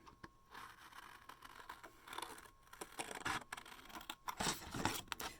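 Scissors trim a paper piece with soft, close snipping and rustling, building into a series of crisp cuts near the end.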